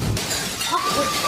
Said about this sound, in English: The water crashes against the window and glass shatters as the spectators scream.